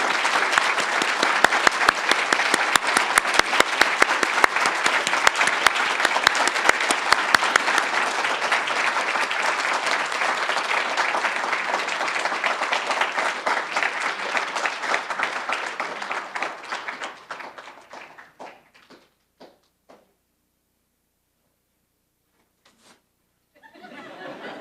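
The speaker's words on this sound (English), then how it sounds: "perhaps we could have a round of applause for the author of all those wonderful poems that we listened to tonight" An audience at a poetry tribute gives sustained, dense applause for about eighteen seconds, then it fades out and a few scattered claps return after a pause.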